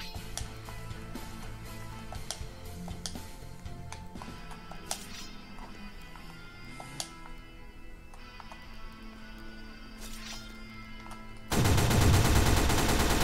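SMG gunfire in the Roblox video game comes as scattered sharp shots and quick bursts over a low game hum, ending in a sudden loud, dense blast of noise.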